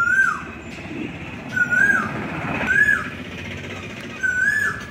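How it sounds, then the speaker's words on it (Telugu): An Asian koel calls from a tree beside a traditional palm-leaf wedding pandal, giving four clear rising whistled notes at a steady, unhurried pace. The calls sound moderately distant over a soft outdoor background. "అదిగో చెట్టు మీద కోయిలు కొత్తుంది."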